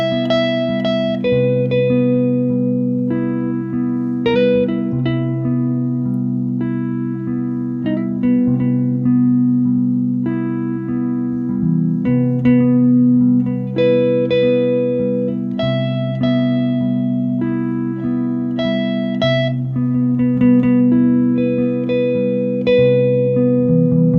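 Electric guitar with effects picking seventh-chord arpeggios built from the 3rd and 7th, sustained overlapping notes ringing in a steady sequence, clean and alone.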